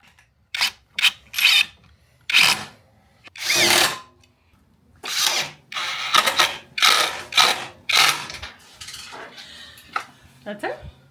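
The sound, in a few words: van seat mechanism being unfolded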